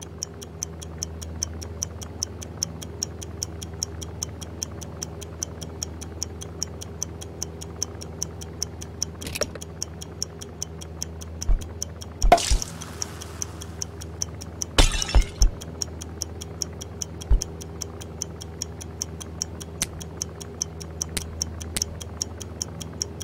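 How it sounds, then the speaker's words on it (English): A bomb timer ticking in the video game I Expect You To Die, a steady, evenly spaced clock-like tick running throughout, broken by a few sharp crashing and shattering impacts. "No ticking is good ticking, as they say."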